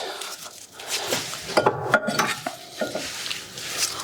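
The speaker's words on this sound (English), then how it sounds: "we're gonna put our brake caliper carrier on" A brake caliper carrier is fitted onto a 2017 Ford Transit Custom van, with close metallic clinks, taps and scraping handling noises in an irregular rhythm.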